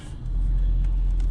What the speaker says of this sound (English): I'm backing up to the shop right now.